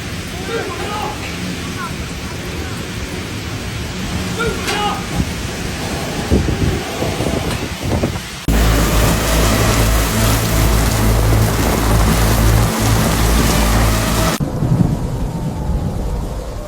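Heavy rainstorm over Guangzhou streets, a dense roar of pouring rain and wind with low rumbles of thunder, the recording shifting abruptly between noisy segments and a voice speaking partway.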